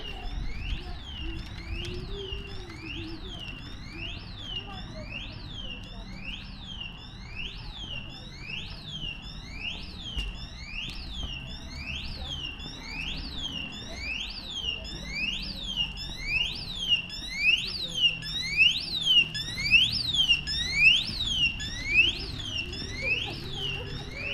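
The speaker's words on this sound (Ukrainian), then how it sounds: "такому комерційному приміщенні спрацювала сигналізація" An alarm is going off in a commercial building, sounding as a loud, continuous siren made of rapid repeating rising sweeps. It swells slightly toward the end over steady low background rumble.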